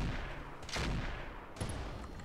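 Gunfire in the video game Roguepoint, two fairly faint bursts of shots about a second apart against a steady low background, with no voices.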